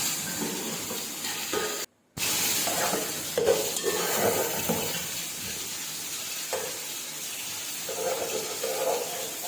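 Hot ghee sizzles and hisses steadily in a pan as a tempering of spices fries for chana pulao, with occasional stirring scrapes and a brief dropout partway through.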